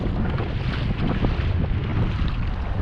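Strong morning wind buffets the microphone out on the Swan River while fishing from a small boat, a constant roaring rumble with faint water sounds beneath.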